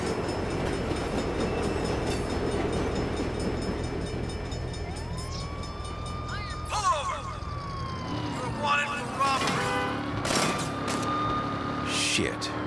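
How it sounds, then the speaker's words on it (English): A train rolls past during a Saints Row video game street scene, a steady low rumble for most of the stretch, joined later by rising and falling police siren wails and a few sharp bursts as traffic noise grows busier. "Bad time for a train."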